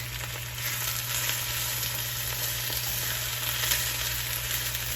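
Garlic cooks in a pan, producing a steady, dense sizzle that holds evenly from start to finish, close and moderately loud with a low constant hum beneath, and no voices.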